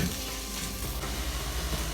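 Shallots, green chillies and curry leaves sizzle and fry in hot oil in a pan for a Kerala onion theeyal. The crackling is steady and close, with faint stirring scrapes and no talking.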